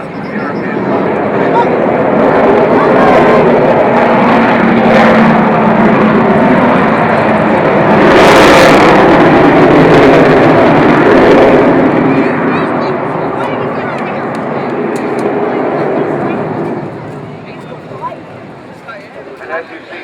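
Avro Vulcan XH558 bomber flying over the Clacton airshow, a loud, continuous jet roar that swells to a peak midway and fades slowly toward the end, with a commentator's voice over the engine noise.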